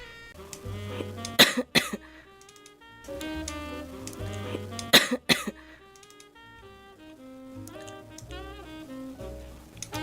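A girl coughs in two sharp, close bursts of several coughs each, over a steady musical background with no talking.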